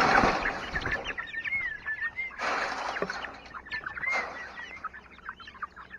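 Backyard chickens clucking and calling close by, a busy overlapping flock with repeated rising clucks across the whole stretch, no talking.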